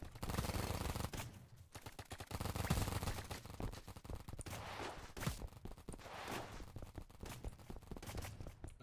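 A minigun fires in the Roblox paintball game Big Paintball 2, with rapid bursts of gunfire rattling over a busy, loud game soundscape and no talking.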